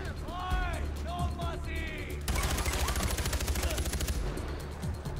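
Rapid automatic gunfire in the video game Far Cry 4, a dense sustained burst of shots under and between talking, with game sound effects and a person speaking over it.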